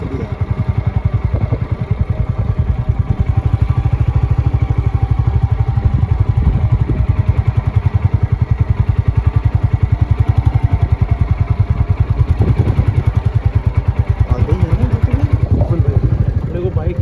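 A motorcycle engine runs steadily at idle for the whole stretch, a loud, close, even mid-pitched throb with some clatter, while voices talk over it at a nighttime stop near a handpump.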